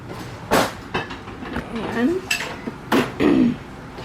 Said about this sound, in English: I just got to get the dishes loaded up